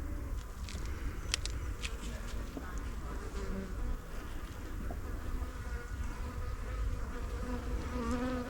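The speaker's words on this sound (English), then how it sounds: "Lovely calm bees." Honey bees hum in a dense, steady drone during a hive inspection, a close continuous swarm buzz with occasional individual bees zipping past the microphone, no talking.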